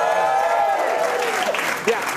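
Audience at a comedy show clapping, a dense burst of applause with crowd noise that fades out while a voice rises over it near the end.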